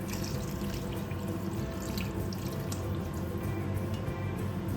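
Water is poured into a cooking pot for noodles, making a continuous close rushing and splashing flow that holds steady throughout, with no talk.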